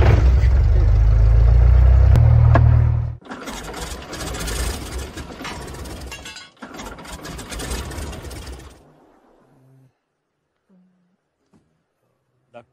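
A light aircraft engine at a Regina flying club is cranked and starts, a loud low churning for about three seconds, then an uneven running roar that fades out into near silence.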